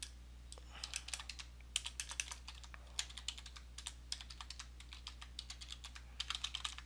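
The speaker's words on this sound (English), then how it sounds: "I'm going to type on create account" Quiet, close typing on a computer keyboard runs in quick irregular bursts of key clicks over a low steady hum, with no talking.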